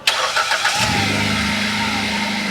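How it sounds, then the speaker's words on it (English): A Hyundai i20 cranks briefly with a few quick whirring turns, then catches and settles into a steady nearby idle hum. "We're going to be starting the car up and switching off the car and doing it multiple times"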